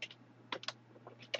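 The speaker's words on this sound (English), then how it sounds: "I can type here now" Keys on a computer keyboard clack in a short, irregular burst of typing, close and fairly quiet, with a faint steady hum underneath.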